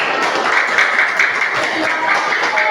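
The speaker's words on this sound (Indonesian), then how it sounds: "Tepuk tangan untuk kita semua." A class of children in a coding lesson claps hands together in a brief, dense burst of applause, quick overlapping claps close by, with a faint voice underneath.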